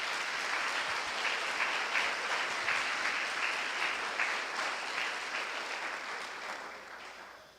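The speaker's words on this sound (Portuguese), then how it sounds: "Pode aplaudir, por favor." Steady applause from a Catholic church congregation, a dense wash of many hands clapping at a moderate distance that holds evenly for several seconds and then gradually fades out.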